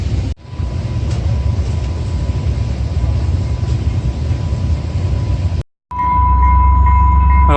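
Loud, continuous rumble of a train rolling close by, steady rattling and low roar, briefly cutting out near the end before resuming with a tonal whine.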